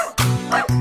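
In a nursery rhyme song, a farmer's dog gives two loud, close, tonal barks in quick succession with a brief yip between them.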